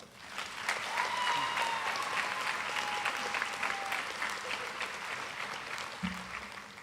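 Applause from a banquet audience honoring athletic award winners, a steady wash of many hands clapping at moderate distance that holds for the whole stretch, with a faint tone and brief low thump near the end.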